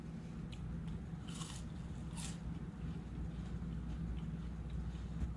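Oily fried fish being bitten and chewed close up, with a few soft crunches and wet squishing chews, faint and quiet against a steady low background hum.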